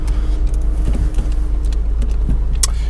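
A 2016 Volkswagen Polo car, Bosna edition, heard from inside as a steady low engine rumble with scattered light clicks and rattles, loud and close, with no voices.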